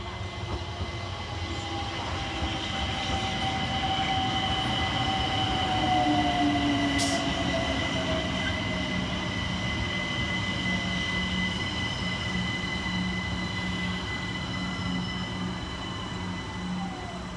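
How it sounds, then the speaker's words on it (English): A London Overground train on the East London Line rumbles steadily into platform 2, wheels grinding and squealing faintly along the rails, with a long continuous roar throughout. "approaching platform 2 is the 12:59 London Overground service to West Croydon"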